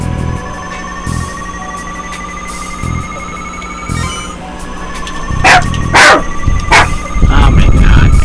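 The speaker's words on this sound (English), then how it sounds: "Oh my god, my dogs are barking." Household dogs barking in short repeated bursts, building in the second half over a steady electronic game-music background with a ringing tone.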